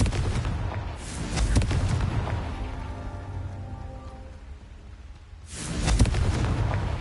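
A Confringo spell blast in Hogwarts Legacy on PS5, heavy booming bursts at the start and again near the end, with a rumbling, crackling, rain-like rush of debris between them.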